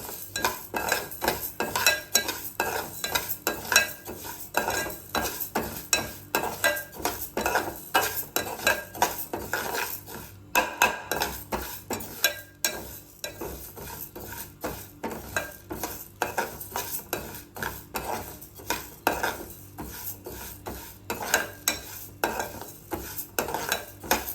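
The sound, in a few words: stirring moong dal roasting in pan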